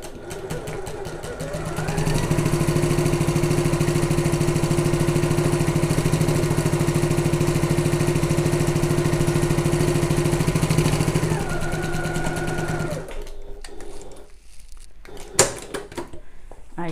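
A sewing machine runs a straight seam with regular stitch length along the top long edge of a messenger bag, a steady close whirring hum for about nine seconds that stops, followed by light handling clicks.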